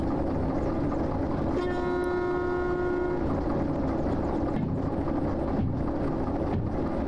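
A train rolling along rails in the Derail Valley game, with a long steady horn blast midway over constant rumbling wheel noise, no voices.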